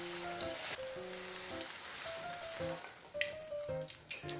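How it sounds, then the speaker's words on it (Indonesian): Corn fritters (bakwan jagung) sizzle and crackle as they fry in hot oil, a close, steady hiss broken by popping spatters, with some faint tonal sounds in the background. "Kemudian siap untuk digoreng."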